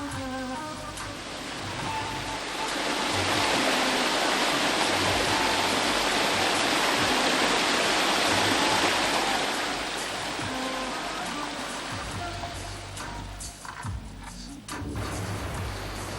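A waterfall and stream on Stara Planina, in the Pirot region of Serbia, rush continuously with a dense, steady hiss of falling water that swells in the middle and eases slightly later on.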